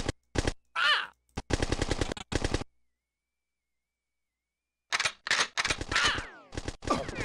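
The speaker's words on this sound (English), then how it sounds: "Now I'm being shot from over here by a guy who magically appeared." Video game gunfire in Bad Day L.A.: two bursts of rapid, loud automatic shots separated by a couple of seconds of silence, the second burst trailing off with ringing echoes.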